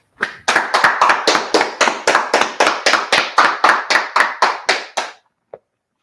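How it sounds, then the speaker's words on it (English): A group claps hands in a steady unison rhythm at a street gathering in Washington DC, about twenty loud, evenly spaced claps close by, then stopping abruptly with one faint stray clap after. "clap it up."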